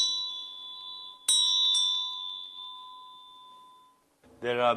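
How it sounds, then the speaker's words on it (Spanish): A clear prayer bell rings with a long sustained tone, then two sharper strikes ring out and fade slowly before a brief voice at the end. "los sonidos de campanas que se usan antes de rezar"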